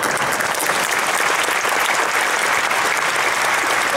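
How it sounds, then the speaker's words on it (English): Sustained, steady applause from football program boosters at an Ohio State event where coach Urban Meyer introduces his staff, a dense wash of clapping hands in a room, with barely any voices. "hold your applause for the end"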